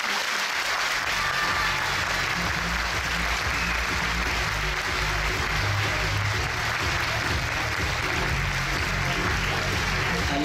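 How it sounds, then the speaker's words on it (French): A hall audience at the Miss Poitou-Charentes beauty pageant election claps loudly and continuously, a dense, even wall of applause lasting throughout. "il faut les remercier par une salve d'applaudissements"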